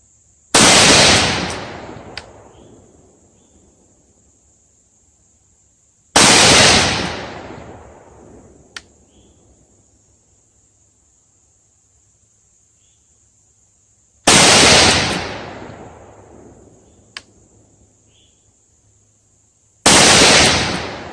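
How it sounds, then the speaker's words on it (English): Rifle shots with a heavy, gritty Mil-Spec trigger ring out during a shooting session: four loud, sharp single cracks spaced several seconds apart, each trailing off in a brief echo. "Going from that heavy, gritty Mil-Spec trigger to this trigger is going to be interesting in the same shooting session"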